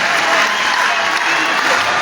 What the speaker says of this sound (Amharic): ሞቅ ባለ ጭብጨባ ወደ መድረክ ሸኙልን።